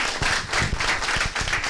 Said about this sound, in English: clap wildly